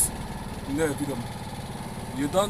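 A keke auto-rickshaw engine idles steadily at low revs, a close, continuous mid-pitched putter running under a voice as he talks throughout.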